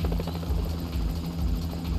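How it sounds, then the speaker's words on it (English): Helicopter in GTA V Online drawing in during a cartel shootout mission, a steady loud low rotor drone with pulsing chop throughout, nearby and continuous. "We called in the chopper."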